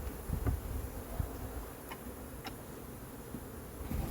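Honey bees in a smoked hive during an inspection give off a low, steady, faint buzzing hum with a few soft ticks, with no voices.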